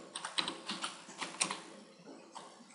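Typing on a computer keyboard, with a quiet, fairly even run of light key clicks lasting under three seconds and no voices.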